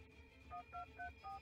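Telephone keypad tones from the tactical game Troubleshooter: four short two-note dialing beeps in a steady rhythm over a low game background hum, fairly clear and close.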